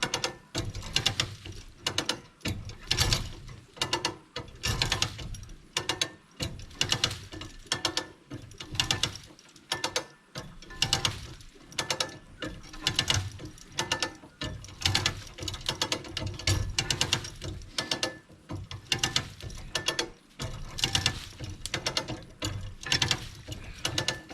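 A come-along ratchet puller is cranked repeatedly while pulling on a cherry tree, giving rapid bursts of metallic clicking in uneven rhythm with short pauses between strokes.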